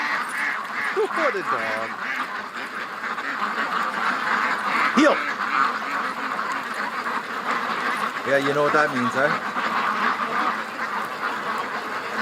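Ducks quack in short bursts outdoors alongside an excited dog, the calls moderately near and partly under a voice talking to the dog over steady background noise.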